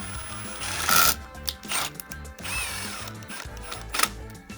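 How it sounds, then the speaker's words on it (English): A T20 screw is driven by hand into an office chair armrest, giving a series of close, intermittent ratcheting clicks and mechanical rubs with short pauses in between. "We'll take the screw and go ahead and put that in. It's the T20."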